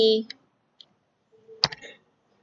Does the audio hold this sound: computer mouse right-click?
yes